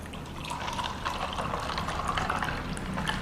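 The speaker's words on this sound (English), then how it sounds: "And now we're going to pour our milk tea." Milk tea pours steadily into a cup of ice for bubble tea, a close, continuous liquid splash and trickle with light clinks lasting a few seconds.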